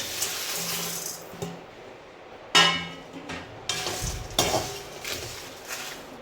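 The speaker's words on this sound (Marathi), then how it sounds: "हे सर्व खडे मसाले टाकून घ्यायचे आहे, सर्व एकत्रच भाजायचे आहे।" Whole spices being dry-roasted together in a pan, with hard seeds rattling and scraping against metal as they are stirred, in repeated bursts of clatter separated by short pauses, close by and without talk.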